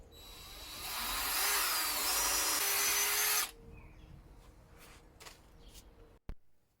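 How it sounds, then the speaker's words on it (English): Power drill boring a hole through oak for a curved brace, a loud steady high whirring for about three seconds that stops abruptly, followed by quieter workshop handling noises and a sharp knock. "just drilled an hole through middle"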